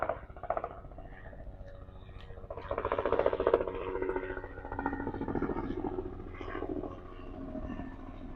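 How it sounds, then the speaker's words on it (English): A helicopter passing over, a low throbbing engine drone that swells and fades around a person talking nearby. "What are the chances a helicopter will come by right now?"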